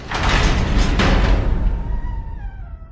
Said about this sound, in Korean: 그때 커다란 문이 천천히 열렸다.